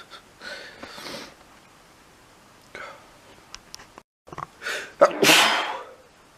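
Several sneezes in a row, building from soft sniffly bursts to a loud, sharp final sneeze, with breathy sniffs between them.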